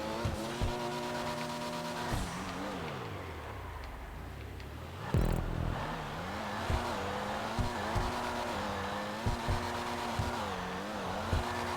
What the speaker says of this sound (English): That single gear drift's alright.